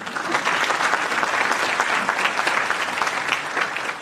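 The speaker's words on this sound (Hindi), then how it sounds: "बजाओ ताली।" An audience claps steadily throughout, a dense, continuous wash of applause from a crowd at a spiritual talk on death, loud and sustained with no pauses.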